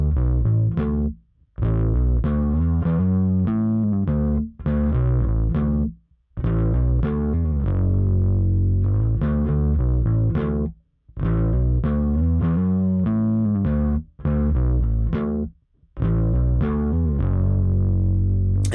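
An instrument fed through a compressor pedal set to dual mode, with two 1176-style compressors interacting, gives a thick, saturated, distorted tone. It plays loud continuous phrases broken by a few brief gaps, with no voices.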